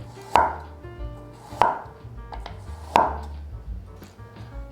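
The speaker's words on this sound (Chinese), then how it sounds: "地瓜削完皮了，现在来切薄片" A knife slices a peeled sweet potato into thin slices on a board, giving three crisp, evenly spaced chops close up against quiet background noise.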